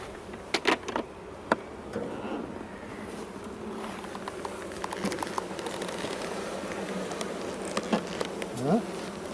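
Honeybees buzz steadily around an opened beehive, a dense close hum with individual bees flitting past, and occasional soft knocks of handling.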